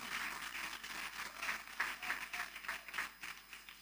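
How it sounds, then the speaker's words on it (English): Audience at a youth speech event applauding young speakers, a faint, distant-sounding patter of many hands clapping with a steady rise and fall. "let's put our hands together for our young people"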